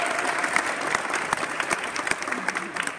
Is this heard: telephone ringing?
no